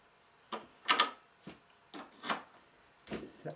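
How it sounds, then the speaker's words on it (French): Bolt being screwed into an old wooden armchair frame during reupholstery, a series of short scraping, rasping turns in uneven bursts, close and fairly quiet with no voices. "Là, je visse."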